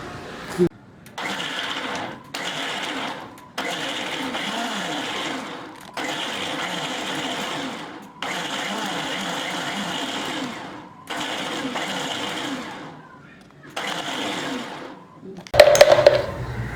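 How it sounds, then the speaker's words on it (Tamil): A mixer grinder pulses pomegranate seeds with water in loud, even bursts of whirring motor, about six or seven in a row separated by brief pauses, ending with a clatter. "இப்போ மிக்சியில் வச்சு அரைச்சிக்கலாம்."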